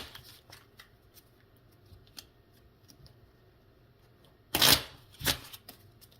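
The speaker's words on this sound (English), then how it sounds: "I'm going to riffle shuffle this one because I think I have those sorted." Riffle shuffle of board game cards at a table: light ticking and handling at first, then a sharp, close burst of cards flicking together, followed by a shorter second riffle burst and quiet handling.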